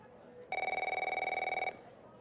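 A telephone rings in the video game The Operator, a single steady electronic trill that pulses rapidly for just over a second against a quiet background, fairly close and clear.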